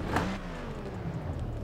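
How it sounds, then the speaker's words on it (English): Bentley Bacalar in Test Drive Unlimited 2, its exhaust note a brief rising rev of the engine heard up close, steady and fairly loud with no talking. "Drumroll, please, for the exhaust note."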